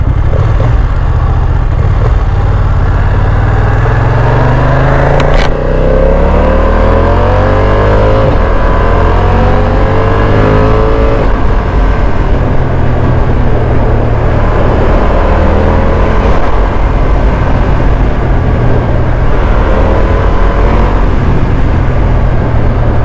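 A 2023 BMW F900R parallel-twin motorcycle engine revs hard and continuously, its pitch climbing and falling through several sweeps, loud and close throughout.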